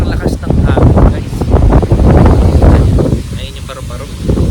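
Strong, cold wind roars and buffets against the microphone in heavy gusts in Infanta, Quezon, with a voice talking underneath.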